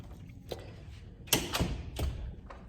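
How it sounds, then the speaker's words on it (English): An indoor door swings shut with a few soft thuds and clicks spread over a couple of seconds, fairly quiet against a low background hum. "Let me close this door."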